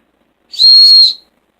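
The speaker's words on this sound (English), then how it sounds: "A whistle." A single sharp, high-pitched whistle blast, loud and close, held steady for about half a second before cutting off.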